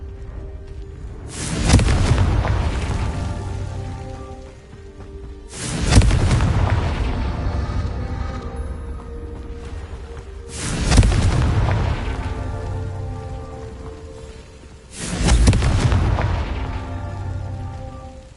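Confringo spell blasts in a Hogwarts wizarding video game, four heavy booming explosions spaced a few seconds apart, each with a sharp onset and a rumbling tail.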